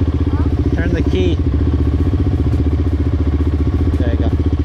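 A dirt bike engine runs steadily throughout, loud and close with a constant rumbling idle, while people's voices talk over it at a few points.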